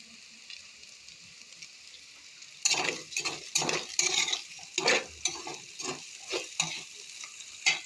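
Food being stirred and fried in a pan: a quiet low sizzle, then close, irregular scrapes and clatters of a utensil against the pan over the frying, with no talk.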